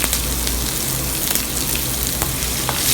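Dry red chili and chopped onion fry in hot ghee with a steady, close crackling sizzle and faint bubbling, continuous and alone for a few seconds.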